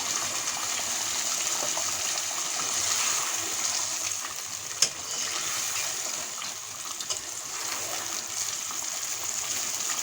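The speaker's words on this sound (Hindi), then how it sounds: "मीडियम फ्लेम पे हम जो है वो इसको फ्राई करेंगे।" Onions frying in oil over a medium flame for chicken layer biryani, giving a steady close sizzle with one sharp pop near the middle, no voices.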